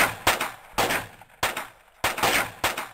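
Gunshot sound effects in a crime audio drama: about five sharp, loud shots fired at fairly even intervals, each decaying quickly, with no talking over them.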